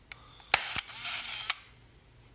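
A film camera's shutter fires with sharp mechanical clicks, one early snap followed by a whirring wind and another click about a second later, close and fairly quiet against a faint background hum, with no speech.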